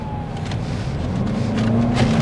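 A 2023 Toyota Crown RS Advance accelerating hard in Sports Plus mode, its engine drone climbing steadily in pitch and growing louder over about two seconds, with no talking.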